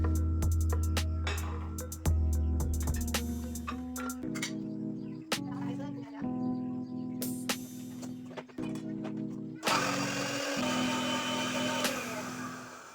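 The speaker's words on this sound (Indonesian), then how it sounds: "Oke, lanjut kita blender dulu teman-teman." A kitchen blender grinding spices including fennel and ground coriander whirs and grinds in bursts, its motor pitch shifting as it starts and stops, loud and close with clattering inside.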